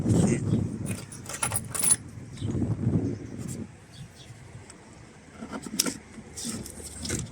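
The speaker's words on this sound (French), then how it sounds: "Et on entend quand ça se déclipse." Plastic clips on an Audi A3 Sportback door panel pop loose with a few sharp clicks and snaps, mixed with scraping, rattling handling noise, close by and fairly quiet.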